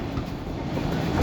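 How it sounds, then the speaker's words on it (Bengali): A train passing by, heard as a continuous loud, close rumble with dense low-end roar and no breaks. "ট্রেন যাচ্ছে, ও দেখছে।"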